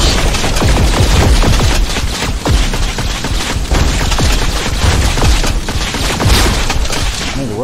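Rapid, loud shotgun blasts from the VR shooter Scraper: First Strike fire in quick succession, dense booming reports overlapping with little pause and no voices.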